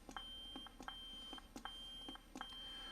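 Short electronic beeps from a Proffieboard neopixel lightsaber's volume menu sound faintly in a repeating pattern, several quick tones about every three quarters of a second over a quiet background.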